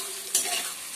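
Paneer fries in a pan for palak paneer, a short burst of close sizzling with a quick scrape of stirring near the start.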